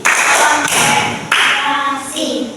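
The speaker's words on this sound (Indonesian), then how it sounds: "ngecek kehadirannya dengan tepuk konsentrasi" A group claps loudly in a quick rhythmic pattern for a concentration clapping game, bursts of hands striking together in sequence, with voices mixed in.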